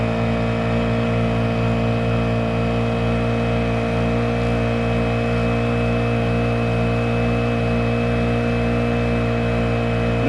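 A small lightweight outboard motor mounted on a kayak runs at half throttle, a loud, constant droning whine with a steady pitch throughout, close by and with no talking.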